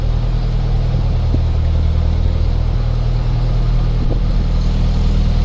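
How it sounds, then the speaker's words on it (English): A narrowboat's steady low engine drone rumbles continuously, echoing inside Crick Tunnel on the Grand Union Canal, with faint knocks and clatter over the top. "Oh, there's a boat going through."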